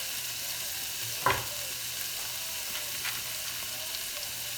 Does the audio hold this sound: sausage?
yes